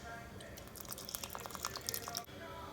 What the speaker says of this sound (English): Add just enough water to cover